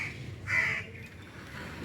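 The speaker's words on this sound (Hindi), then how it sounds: "कौवे कितना शोर मचा रहे हैं" A single crow caws clearly once outdoors, fairly close, over a quiet background of faint ambient noise.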